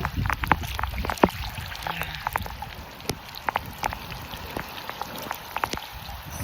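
Rain falls on the ocean around a swimmer, scattered close droplet taps and splashes pattering irregularly over a low watery wash, with soft movement in the water.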